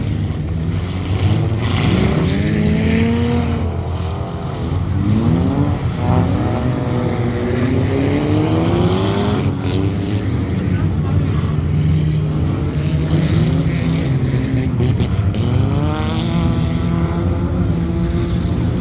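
Race car #826 runs on a track, a loud continuous engine drone with repeated rising and falling pitch sweeps as it speeds up and slows, alongside other cars.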